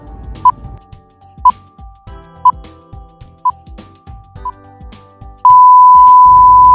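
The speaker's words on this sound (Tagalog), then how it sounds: "Your timer starts now." A quiz countdown timer gives five evenly spaced electronic beeps about one second apart, then a long loud final tone, over soft background music.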